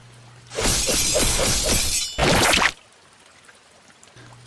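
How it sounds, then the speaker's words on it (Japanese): A harsh sword-thrust stabbing effect in a dramatized Shinsengumi assassination tale, where a katana's triple thrust pierces flesh: a loud crunching, tearing burst lasts over a second, then a second shorter burst follows before near silence. "凄まじい肉の断絶音、痛烈な三段突きが芹沢を突き刺した。"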